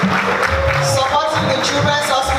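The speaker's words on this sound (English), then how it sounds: "Please, can we give her a round of applause, please?" Audience applause at a charity launch event, a crowd clapping steadily and fairly close, with some voices mixed in among the claps.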